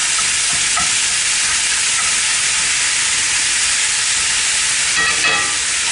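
About 1.5 pounds of hamburger meat sizzling loudly in a pan while it is broken up, a constant dense hiss with a few scraping stir sounds near the end.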